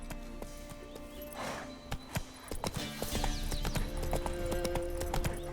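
Roach, a horse in The Witcher 3 video game, gallops with steady clip-clop hoofbeats that grow louder and denser, joined by scattered sharp knocks and a brief whinny-like cry.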